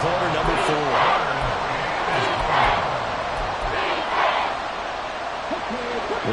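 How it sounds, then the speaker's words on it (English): A large stadium crowd at a Seahawks versus Rams football game roars loudly and continuously, swelling in waves, while a commentator talks over the noise. "This crowd turning up the decibel level"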